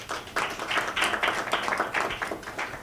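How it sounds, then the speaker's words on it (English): Audience applause for Dr. Nkosazana Dlamini Zuma at a gala press briefing: steady clapping from a crowd, moderately loud and sustained after a brief quiet start. "Please give her a round of applause."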